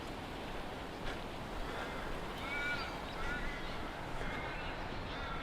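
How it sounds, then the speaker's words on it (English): Crows caw faintly and intermittently in the distance at Secret Harbour, Australia, set against a steady wash of surf and wind. "there's crows in the background"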